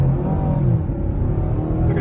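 A heavy Mazda CX-60 plug-in hybrid SUV accelerates hard, its engine note rising in a loud, close, steady drone inside the cabin.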